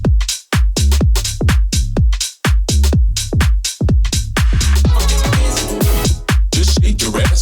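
The house track Shake It by NUZB, released on Stamped Records, pumps out punchy, steady four-on-the-floor kicks with a deep bouncy bassline and bright percussive hits, loud and continuous without speech.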